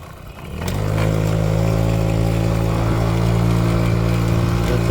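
A Stella 143 engine, a used machine with a suspected clutch fault that won't rev out fully, runs loud and close after a brief quiet start, holding a steady droning rev for several seconds with no talk.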